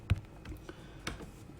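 Light keystrokes on a computer keyboard, a few soft taps spaced irregularly over a quiet moment with no talking.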